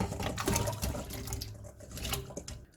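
Chunks of sweet potato go into a pot of water in the kitchen, making a close, continuous sloshing and splashing sound with no talking.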